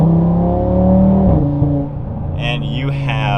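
An Audi RS3 with a full aftermarket exhaust revs loudly in performance mode, its deep engine note rising and falling up close before settling into a steady throb, with turbo whistles layered above.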